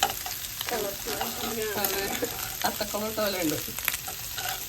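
Fried rice stir-fried in a hot pan, a continuous sizzle with scraping stirs running under a person speaking close by.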